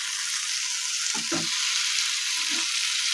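Poppy seed paste (posto) with ridge gourd and green beans sizzles steadily in a pan, a constant close hiss broken by a few soft stirring scrapes.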